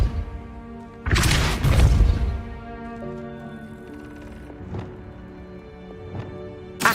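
A Depulso force spell in Hogwarts Legacy on PS5 lands with a heavy booming crash and a crumbling rumble, then lighter thuds and knocks follow over a steady tonal game ambience.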